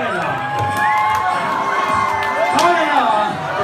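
A live Christmas concert crowd cheers and shouts with scattered whoops, a lively, steady roar of many voices filling the whole stretch.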